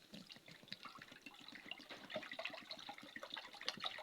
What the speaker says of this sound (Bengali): তো ফ্রাই প্যানে আমি দুধ দিয়ে নেব।